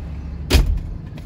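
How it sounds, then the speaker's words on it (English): The driver's door of a 1969 Lincoln Mark III shuts with a single heavy, close thud, followed by a faint rattle and quiet cabin background. "Once I close the driver's door,"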